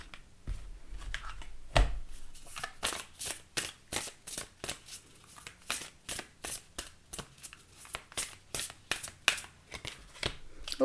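Oracle cards are shuffled by hand at close range, a rapid run of crisp riffling snaps repeating steadily, with no one talking.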